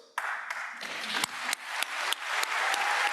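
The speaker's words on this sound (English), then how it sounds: "So yes, another round of applause for all of the supporting cast that are here with us." At a law school commencement ceremony the audience applauds the families and supporters. Dense clapping fills a large hall, with sharper accents recurring at a steady pulse of roughly three per second.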